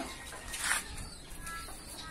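Domestic racing pigeons in a loft give soft, faint bird calls that fit cooing, heard briefly at low volume with no talk over them.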